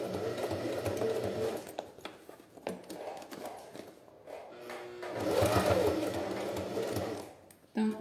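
A sewing machine stitches bias binding along the edge of a beach pouch in short, uneven bursts of rapid mechanical whirring, separated by brief pauses and quiet handling noises.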